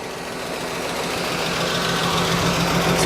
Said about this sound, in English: when the AC does kick on here, the high-speed fan on the condenser does kick on